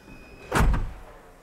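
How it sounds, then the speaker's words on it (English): The electric sliding door of a van closes with a single soft thud, preceded by a faint motor whine, heard up close in a quiet setting. "Close the doors."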